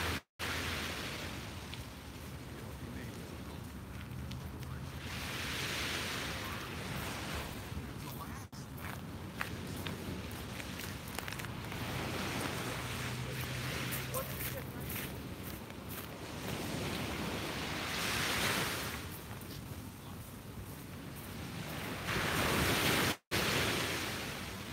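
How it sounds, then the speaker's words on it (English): Ocean waves wash onto a beach in a steady, broad surf roar that swells and recedes in slow surges, with wind noise and faint background murmur underneath. "let's just enjoy the sound of the waves for another minute here"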